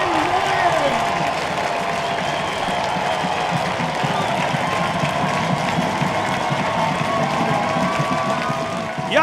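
A home stadium crowd at a Chattanooga FC versus Inter Miami CF II soccer match roars with sustained applause, clapping and cheering, loud and continuous throughout with no let-up.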